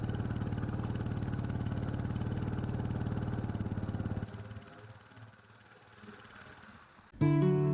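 Motorcycle engines on a main road, a steady loud idling drone for about four seconds, then a quieter passing rumble before a sharp loud burst of engine noise at the end.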